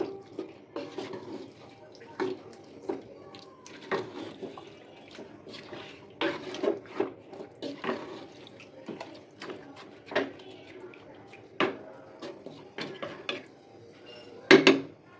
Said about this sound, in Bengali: পেঁয়াজটার সাথে একটু ভালোভাবে নেড়ে চেড়ে দিচ্ছি।